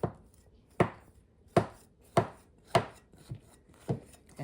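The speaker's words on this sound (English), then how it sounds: "we take our knife and we just cut it in squares" A knife cutting lemon pudding cake into squares, about eight sharp, evenly spaced thuds of the blade striking the board.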